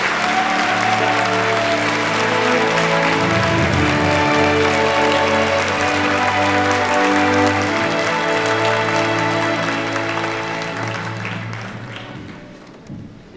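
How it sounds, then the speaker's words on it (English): A large audience at a peace commemoration event applauds the HWPL chairman's arrival, with sustained, dense clapping that holds loud and steady for about ten seconds before tapering off toward the end. "Please join me in welcoming HWPL Chairman Man-hee Lee with a big round of applause"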